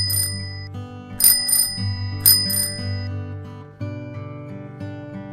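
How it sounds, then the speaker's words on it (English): A bicycle bell rings in quick double chimes, twice in a row, bright and clear over a soft, steady musical backing. "Bicycle,"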